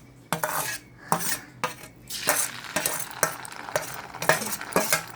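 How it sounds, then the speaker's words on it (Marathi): Ground homemade chilli and onion spice paste goes into hot oil for sev bhaji and is stirred with a metal spoon, giving repeated clinks and scrapes against the pan over a steady sizzle, up close with no talk. "आता दोन पळ्या तेल टाकायचं आहे ना गरम केलेला वाटलेला हा सगळा टाकायचा"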